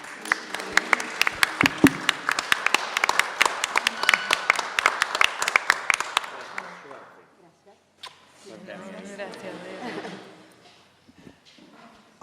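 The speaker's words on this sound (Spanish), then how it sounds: "le dejamos la palabra con un aplauso a las profes" Applause for the teachers at a talk on habitat and local development, crisp clapping from a small audience for about six seconds that then fades, followed by quiet murmuring.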